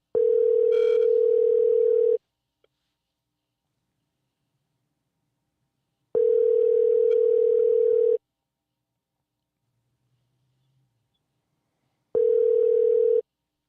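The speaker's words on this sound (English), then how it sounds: "it's ringing. It's ringing." Outgoing phone call ringback tone: three long steady rings about two seconds each, spaced by roughly four-second gaps of silence, clear and fairly loud with no talk over it.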